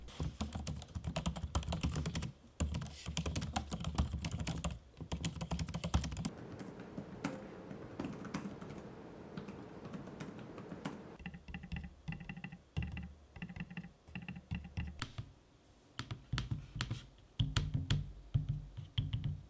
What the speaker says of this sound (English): Here's an audio sample of me using both trackpads and keyboard decks